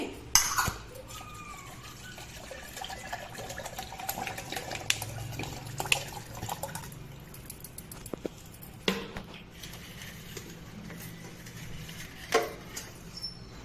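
Half a litre of milk is poured into a pot with peppercorns and cardamom for junnu, a milk pudding, making a close, uneven liquid trickle and splash broken by small clinks and knocks.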